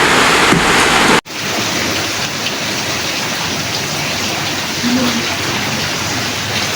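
A loud, continuous roar of heavy rain falls without letup, with a brief break near the start and no talking.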